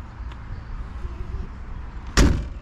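Door of a 1977 Volkswagen Beetle swinging shut with a single solid thud near the end, following a stretch of quiet background noise.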